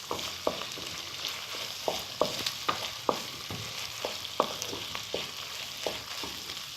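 Keema frying in a pan with whole spices and fennel-flower garam masala, a steady sizzle under repeated sharp scraping and stirring strokes of a spoon against the pan, close and fairly quiet, with no talking.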